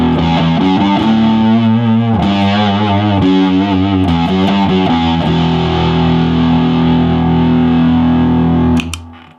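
Heavily distorted electric guitar through a heavier distortion pedal rings out in thick, saturated chords, sustaining loudly before cutting off abruptly at the end.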